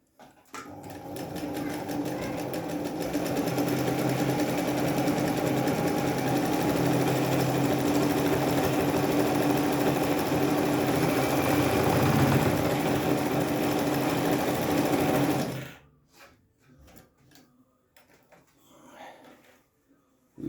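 Singer Felicita sewing machine stitching in embroidery mode, a loud steady whir and fast needle chatter lasting around fifteen seconds before cutting off, followed by quiet rustling and handling sounds.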